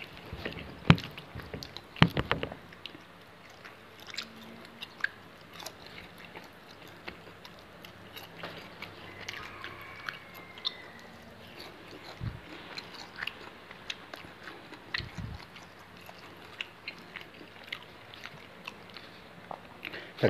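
Fried cicadas are chewed close up with a few crunchy bites at the start, then quieter, intermittent chewing and small clicks over a soft background.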